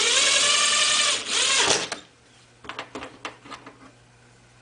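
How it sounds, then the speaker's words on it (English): Number 10 sheet metal screws with quarter-inch washers driven into a metal pipe-support strut on a rooftop block: a loud, steady powered whir for about two seconds, then several short clicks and taps. "drive three number 10 sheet metal screws with 1/4-inch washers into the indents"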